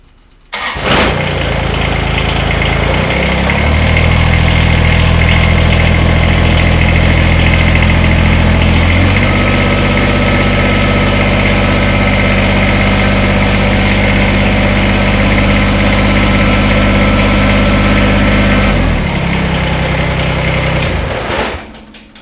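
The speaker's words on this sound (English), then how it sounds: "So I'm going to raise the loader up so I can get underneath of it and attach those things." Kubota BX subcompact tractor engine starting up and running steadily while the front loader is raised, a loud, close, continuous mechanical drone with shifts in load before settling back near the end.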